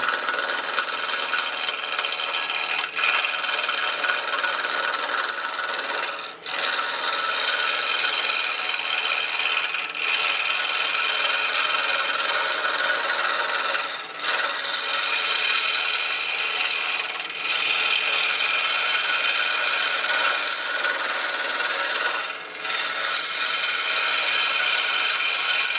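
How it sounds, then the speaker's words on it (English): A radius square cutter shears a wooden pen blank round on a spinning lathe, giving a steady, close scraping rasp that runs continuously for the whole stretch, with only a few brief dips where the tool lifts. "I have essentially a round blank. I did it with the radius square cutter."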